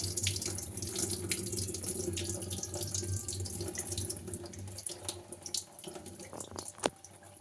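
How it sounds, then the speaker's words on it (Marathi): Water is poured steadily over sago pearls set to soak, in a traditional home kitchen. The pouring makes a continuous close rush of water, loud and even for several seconds with no talking. "आता हे पाणी आपण ओतून घेणार आहोत."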